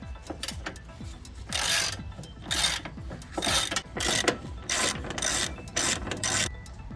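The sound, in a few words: loosening Jeep Wrangler grille bolts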